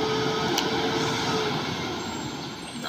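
A Hino truck's engine labours up a steep hill climb at Kedabuan, a steady loud diesel drone with a continuous rumble and no pauses across the clip.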